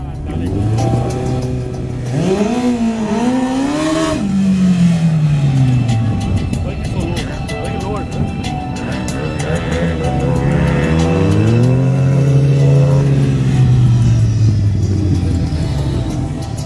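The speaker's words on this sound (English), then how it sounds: "World Drag Race champion, Rickey Gadson, on a brand new Kawasaki, for the first time on Indian track." A Kawasaki Ninja ZX14R running NOS at a drag race event on an Indian track: loud, sustained engine howl rising in pitch through repeated gear pulls, with a steady roar and crowd or announcer voices underneath.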